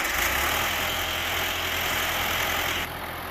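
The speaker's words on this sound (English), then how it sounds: "we'll go ahead and start it" A 1977 John Deere 2130 tractor engine runs at a steady idle close by, a constant rumbling drone with a slight drop in level near the end.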